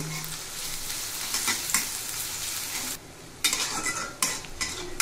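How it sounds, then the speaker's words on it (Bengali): Two medium onions, finely chopped, fry in hot oil in a wok for a chicken rezala. There is a loud, continuous sizzle with scraping stirs and brief clatters of a utensil against the pan. "এখন পেঁয়াজটুকু আমি হালকা বাদামি রং করে ভেজে নেব।"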